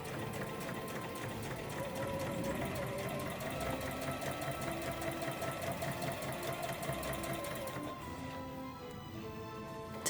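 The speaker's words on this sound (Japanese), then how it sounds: "まずこれを縫います。" A sewing machine stitches the lining fabric of a 500 ml plastic bottle case, its rapid, even mechanical chatter running close and steady before stopping near the end.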